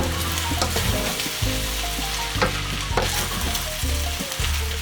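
Fried rice sizzling loudly in a pan after soy sauce goes in, a dense continuous frying hiss with repeated clanks and scrapes of a spatula stirring, close up and without talk.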